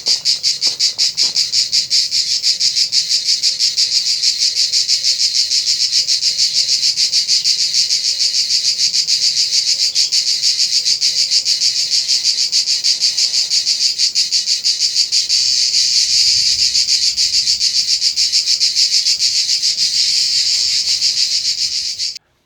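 A loud, steady, high-pitched drone of cicadas buzzing continuously and pulsing rapidly, with no voices, until it cuts off at the very end.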